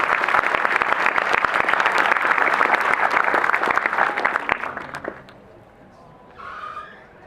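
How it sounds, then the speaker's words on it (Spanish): Loud applause for the guests at a biodiversity colloquium fills the room, dense clapping that fades after about five seconds into quiet, followed by a faint voice. "un fuerte aplauso para los invitados"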